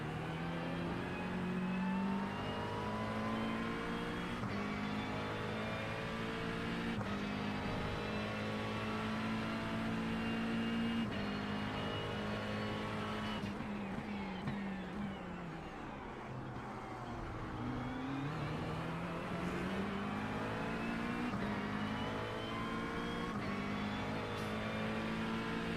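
Race car engines at Sebring in a racing game drone loudly and continuously, shifting pitch through gear changes, with a dip and a rising sweep around the middle. No speech is heard.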